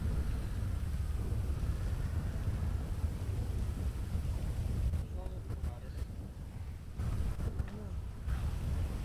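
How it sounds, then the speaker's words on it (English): Heavy rain pours in a dense, steady roar with low rumbling wind noise, briefly easing in the middle before resuming at full strength. "this rain is torrential"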